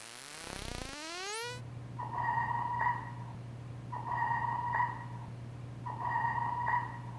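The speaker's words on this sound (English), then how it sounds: "And that's a sonar from a submarine." Submarine sonar recorded underwater: three evenly spaced, ringing tonal pings, each a sustained pure note with a sharp onset, over a steady low hum. A brief descending whistle-like sweep comes first.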